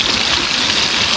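A waterfall stream rushes in a steady, loud, broadband wash with no talk.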